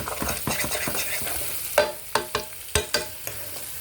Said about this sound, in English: I'm gonna saute these first